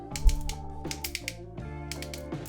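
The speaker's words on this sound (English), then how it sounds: "Listen to that waist ratchet." Ratcheting waist joint of a Transformers Legacy Transmetal II Megatron toy clicks in quick bursts of rapid plastic ticks, close and crisp, in three short runs separated by brief pauses.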